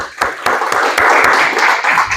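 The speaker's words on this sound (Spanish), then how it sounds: "un aplauso una vez más allá" Congregation applauding in a church service, a short burst of dense clapping that swells and holds steady at close range, with faint voices mixed underneath.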